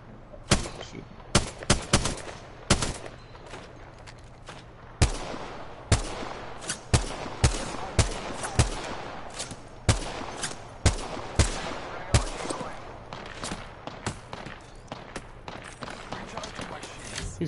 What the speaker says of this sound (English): He's firing on me.